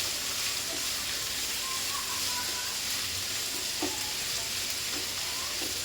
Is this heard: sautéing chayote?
yes